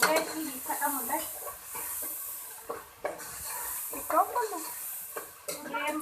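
Minced meat keema frying with peas and potato in a pan, a soft sizzle and hiss with occasional stirring scrapes, heard under steady speech.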